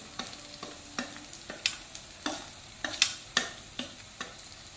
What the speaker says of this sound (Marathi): मसाले पण छान असे परतून घ्यायचे